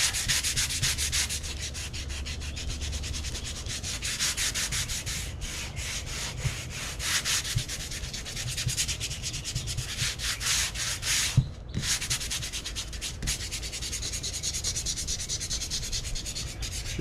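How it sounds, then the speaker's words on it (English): Sandpaper rubs lightly over a painted wooden Halloween prop to smooth out a paint run, a steady close scratching in quick back-and-forth strokes that carries on for many seconds with one brief pause, no voices. "Got a little bit of a paint run there. Just gonna sand it off lightly."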